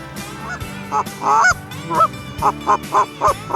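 Canada geese honk loudly and repeatedly in a rapid series of close, overlapping calls, with no voices.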